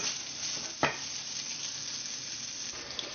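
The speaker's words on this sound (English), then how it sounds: "now I'm going to pan sear the pork chops" Seasoned pork chops, one bone-in and one boneless, sear in a pan over medium-low heat, giving a soft, steady sizzle and hiss with a brief sharper crackle, quiet and without talk.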